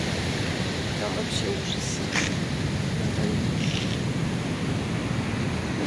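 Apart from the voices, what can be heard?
stormy sea waves in Sochi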